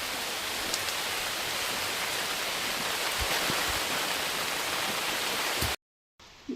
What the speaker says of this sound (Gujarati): વરસાદ ફૂલ ચાલુ થઈ ગયો છે.